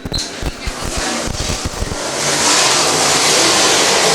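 Open-wheel race cars at ACR leave the start: scattered clicks and engine bursts quickly swell into a loud, sustained roar of the whole field accelerating together.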